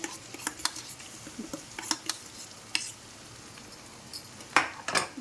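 A jackfruit cutlet mixture is stirred in a pan over rising heat, with scattered spoon scrapes and clanks against the metal and a faint sizzle in between, close and irregular.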